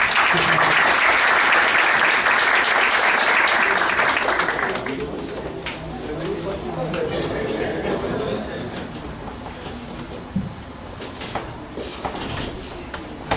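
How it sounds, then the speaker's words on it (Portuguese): An audience at a Spiritist tribute event applauds loudly for several seconds, then the clapping thins out and fades into scattered claps and room noise. "os aplausos de vocês para Francisco do Espírito Santo Neto."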